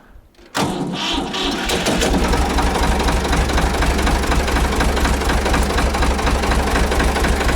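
An old Ford engine cranks and catches within the first second. It then settles into a loud, steady, rough-running idle with a heavy low rumble and rattling knock that continues throughout.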